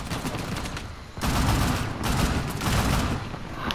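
Rapid bursts of gunfire in Uncharted: The Lost Legacy, loud and sustained, with dense overlapping shots that drop briefly before surging again into heavier volleys.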